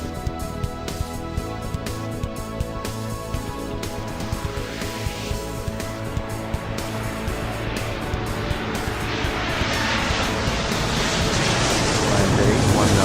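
A jet engine spools up as an airplane accelerates for takeoff in the video game Airport Madness 3. The roar swells steadily louder and brighter while a voice talks over it.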